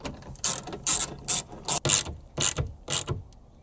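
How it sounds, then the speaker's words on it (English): A ratchet tightens window regulator clamps on a 2017 Sierra 1500 with about eight short, separate clicking bursts in an uneven rhythm, close and clear with no talk. "Then we'll tighten down these clamps."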